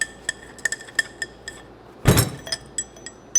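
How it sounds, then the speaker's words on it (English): Metal parts clink and tap as the piston is pulled from a 1994 Harley-Davidson Softail front fork, with scattered light metallic ticks and one louder rattling clatter midway. "Let me go ahead and get that piston out now."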